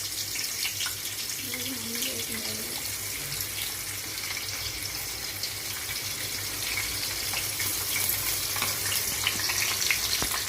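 Chopped vegetables and mustard seeds frying in oil for a Telugu home breakfast, a steady close sizzle running the whole time with occasional stirring scrapes and no talk.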